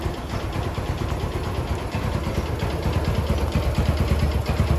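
A 2007 Yamaha Jupiter MX motorcycle, fresh from new brake shoes and clutch plates, idles close by with a steady, even putter and a fast, regular low thump that holds without a break.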